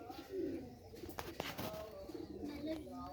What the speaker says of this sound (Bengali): বাজির লাইনে পায়রা।